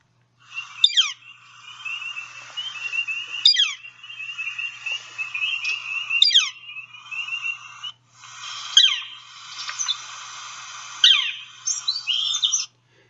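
Northern flicker calls, several loud clear high whistled notes with sharp downslurred onsets, repeated in groups across the clip against quiet background, without voices.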